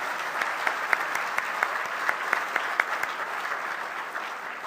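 An audience at a technology awards gala in Richmond claps steadily, the dense applause sprinkled with a few sharper individual claps, continuous and fairly close, with no speech over it.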